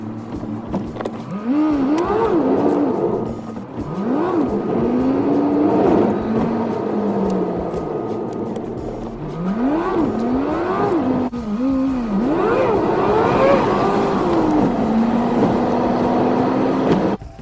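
Alfa Romeo Giulietta on a road test drive after a rear brake pad change, its engine revving up and easing off in repeated rising and falling sweeps, steady and close under continuous road and wind noise.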